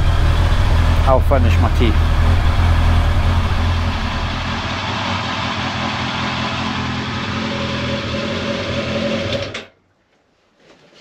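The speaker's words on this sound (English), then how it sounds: "So we'll start that up, and while the bike's warming up" A 2022 Honda CB650R motorcycle engine idles while warming up, a loud, steady, close rumble that settles slightly lower after a few seconds and then cuts off abruptly, with someone speaking briefly over it early on.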